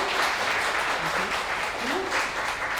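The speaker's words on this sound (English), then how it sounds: "let's first of all give a round of applause to Mr." A round of applause from an audience for a hospitality executive after his talk, dense continuous clapping with a few faint voices underneath.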